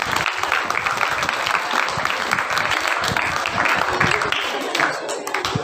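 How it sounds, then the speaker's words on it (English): An audience at a school festival claps in dense, sustained applause, fairly near and even throughout, with a voice faintly underneath. "Give her a round of applause."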